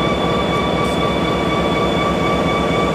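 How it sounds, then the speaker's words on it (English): A GP30 diesel locomotive's prime mover idles in a rail yard, a loud, close, steady rumbling throb with pulsing low-end beats and a sustained whine, with no voices. "listen to the prime mover of a serious GP30"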